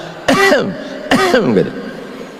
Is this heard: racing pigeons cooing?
no